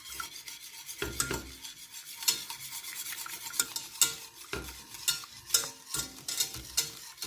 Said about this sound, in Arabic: غادي نبقى نخلط مزيان حتى يعقد عندي داك البياض